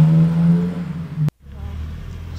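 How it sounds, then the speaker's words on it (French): A small classic Alfa Romeo press car at a road rally for vintage cars drones past loudly with a humming engine, then the sound cuts off sharply, leaving quieter background rumble. "Passe ensuite une petite Alfa Romeo,"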